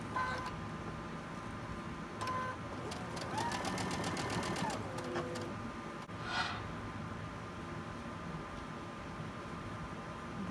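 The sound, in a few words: sewing machine chain stitching quilt block pieces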